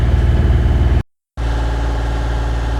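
A sailboat's engine runs on a steady, droning idle, loud and close, with a deep continuous hum that cuts out abruptly for a moment and then resumes at the same level.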